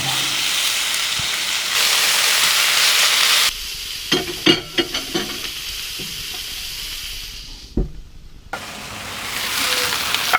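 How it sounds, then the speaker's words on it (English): Burgers hit the hot side of a grill, giving a loud, steady sizzle that breaks into a quieter stretch of scattered thumps and clicks, then swells back into full sizzling. "Now it's time to throw on the burgers, guys. Here we go. Throw them on the hot side first."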